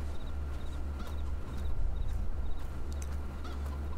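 A flock of chickens in the Farming Simulator 22 video game makes short, scattered clucks over a low, steady background hum, faint and with no talking.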